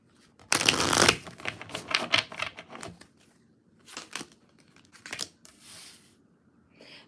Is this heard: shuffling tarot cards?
yes